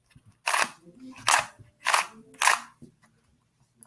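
A QiYi Qifa S Square-1 puzzle is twisted in four quick, evenly spaced bursts, each a rough, scratchy grinding of the outer layers, close and fairly loud with brief quiet between turns.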